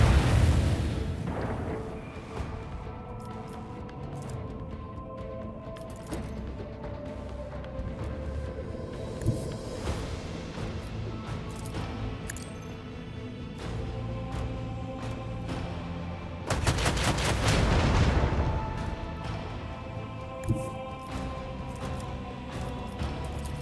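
Starship batteries fire in the Warhammer 40,000: Rogue Trader video game as low, rumbling booms under a droning score, with a heavier surge of blasts near the middle and scattered sharper impacts.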